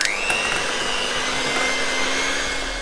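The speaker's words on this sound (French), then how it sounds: "je vais mélanger mon beurre pommade dans mon saladier." Electric hand mixer beating softened butter in a mixing bowl, a steady loud motor whine with a brief rising pitch at the start, continuous and close.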